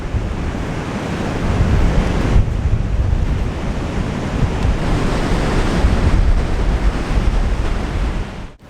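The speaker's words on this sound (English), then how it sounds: "there was waves crashing over it, creating quite a dramatic scene" Post-storm sea waves crash and surge against a breakwater, a continuous roaring wash with heavy wind buffeting close by and no voices.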